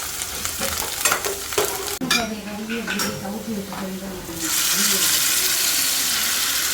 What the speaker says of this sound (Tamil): இப்போ நான் பருப்புக்கு தான் தாளிச்சிட்ருக்கேன் சின்ன வெங்காயம் நல்லா வதங்கணும்